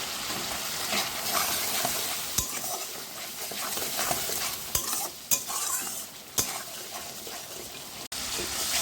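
Ground spice paste with salt, turmeric, a little sugar and Kashmiri chili powder sizzling in a pan, a continuous bright frying hiss broken by scraping spoon strokes and occasional sharp clinks, close and fairly loud.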